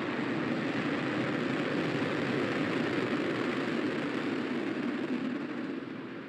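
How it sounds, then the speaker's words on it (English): A SpaceX Falcon 9 rocket igniting and lifting off, a broad continuous roar that holds steady and begins to fade slightly toward the end. "3, 2, 1, ignition. Liftoff. Go Falcon, go Falcon."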